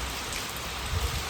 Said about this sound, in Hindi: बारिश तेज़ है यार।